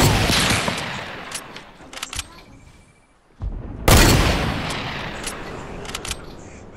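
Rapid video game gunfire crackles in dense bursts, dips to near quiet for a moment, then erupts again with a loud, sharp volley that keeps rattling close and steady.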